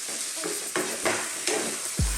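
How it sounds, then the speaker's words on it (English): Beef sizzles steadily in a hot, uncovered pan while a utensil stirs and scrapes it in several strokes, ending with a low knock. "just stir frying it in the pan"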